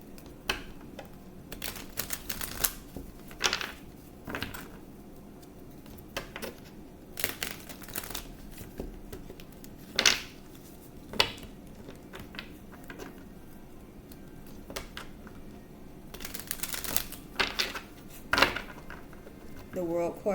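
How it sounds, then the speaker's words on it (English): A deck of tarot cards is shuffled in soft, irregular bursts of riffling and crisp card clicks, quiet and close, with pauses between handfuls. "I'm going to shuffle the cards."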